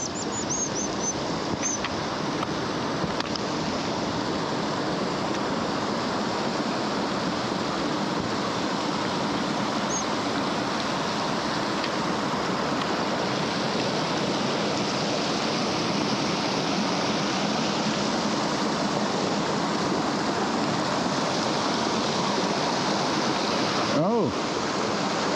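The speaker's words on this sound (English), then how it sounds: "Another river." A river in Jotunheimen National Park rushes steadily, a loud, continuous broadband roar of flowing water with no pauses, heard alone throughout.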